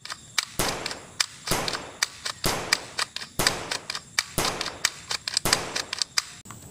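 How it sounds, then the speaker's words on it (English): Toy shotgun firing at close range: a series of sharp, loud cracking shots with brief ringing tails, coming in an irregular rhythm about once a second, with no talking. "Shotgun."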